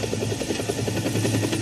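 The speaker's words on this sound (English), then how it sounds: "I hear a chopper." A helicopter in a video game, Deadlight, its rotor thumping in a fast steady rhythm, loud and continuous, like it is passing close overhead.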